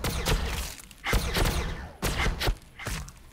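A supercharged weapon fires in the video game Battlesector, a tactical battle setting. Punchy blasts land in quick clusters, roughly four heavy bursts over a few seconds, each a loud, broad thump with a short, crackling tail.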